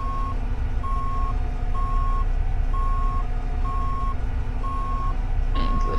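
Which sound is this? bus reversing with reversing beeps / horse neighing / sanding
bus reversing with reversing beeps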